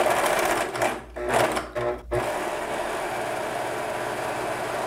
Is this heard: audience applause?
no